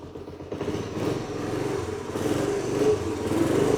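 A motorcycle engine catches and settles into a steady, close idle with a mid-pitched throb that gradually grows a little louder, heard alone without speech.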